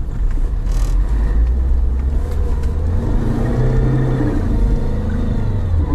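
A Lada Niva climbs a steep hill in low-range gear, its engine a loud, steady, close rumble that strains and rises in pitch as it pulls, with no talk over it.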